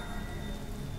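Pouring rain in a murder-mystery video game, a brief steady hiss of heavy rainfall drumming on surfaces with a faint constant tone underneath.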